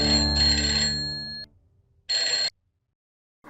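An electronic telephone ringtone sounds in two bursts, the first long and loud, then a short second ring after a pause of silence, with the start of another at the very end.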